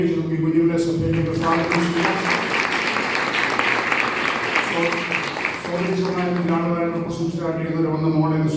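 A church congregation applauding during a water baptism service at IPC Elim in Kumbanad, sustained clapping from a crowd in the middle stretch, with someone speaking before and after it.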